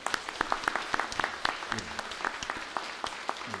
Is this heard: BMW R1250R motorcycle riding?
no